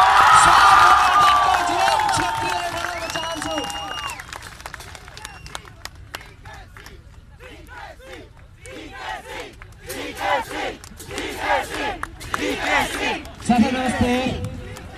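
A crowd at a political speech in Baneswar, starting with loud, sustained clapping and cheering that fades, then chanting and shouting voices rising and falling in waves.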